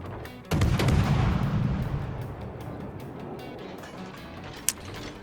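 Ship turret guns fire in a naval battle in World of Warships, a heavy boom followed by a long rumbling decay, with a sharp crack of another shot near the end, no voices.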